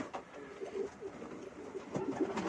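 Pigeons cooing softly and repeatedly at close range, low throaty calls in an otherwise quiet setting.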